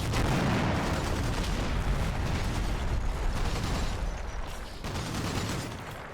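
Heavy machine gun in a video game hammering at buildings, a loud, dense, unbroken stream of rapid shots and blasts that eases slightly near the end.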